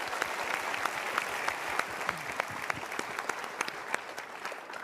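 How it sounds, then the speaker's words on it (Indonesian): Audience in a seminar hall breaks into steady applause, a dense, even patter of many hands clapping at moderate distance with no voices. "kita berikan tepuk tangan"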